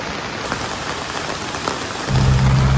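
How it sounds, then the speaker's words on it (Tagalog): Heavy rain pours steadily at a flooded campsite, a dense continuous hiss that grows louder and fuller near the end with a low rumble. "Sobrang lakas na naman ang ulan."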